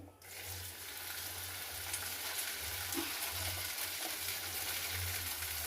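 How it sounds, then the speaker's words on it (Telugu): Okra frying in oil for a quick okra chutney, a steady soft sizzle that continues unbroken throughout with a faint low hum underneath and no talking. "దీంట్లో ఈ నూనెలోకే బెండకాయలు బాగా వేపుకోవాలి"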